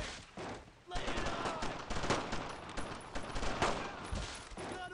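Gunfire from a World War II shooter video game, a dense, continuous fusillade of overlapping rifle and machine-gun bursts, loud and close throughout, with shouting voices faintly mixed underneath.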